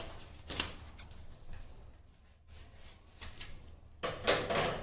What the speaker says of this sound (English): So now I am cutting the paper.